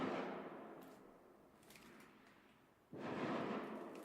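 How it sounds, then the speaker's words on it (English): Fireworks set off by neighbors outside: a low, sustained rumbling boom that starts loud, fades over a couple of seconds, then swells again with a second burst, muffled and distant-sounding, with no talking. "right, it was fireworks"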